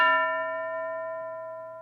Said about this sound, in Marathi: आता पुन्हा घंटा वाजली की टीचर इतर 2 मुलांना उभं करतील